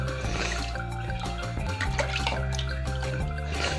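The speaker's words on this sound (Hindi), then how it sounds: "ये देखिए बलून से पानी कैसे वापस आ रहा है।" Water flows back out of a water balloon during a Holi celebration, a steady gushing, splashing stream that stays loud and continuous throughout with no voices over it.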